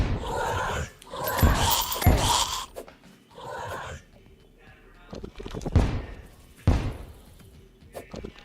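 A corgi dog makes several loud, close bursts of barking and whimpering, spaced out with short quiet gaps between them.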